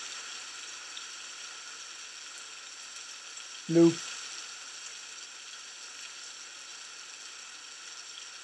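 Rain sound effect playing during a PowerPoint presentation, a steady hiss of rainfall with one brief low word spoken over it partway through.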